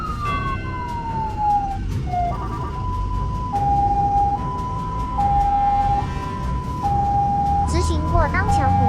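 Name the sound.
ambulance siren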